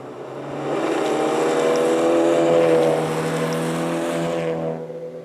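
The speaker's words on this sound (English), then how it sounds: "Followed by the Peugeot 205 GTI" A Peugeot 205 GTI rally car passes at speed on a rally stage, its engine note rising as it approaches, holding loud and rasping, then fading away as it moves off.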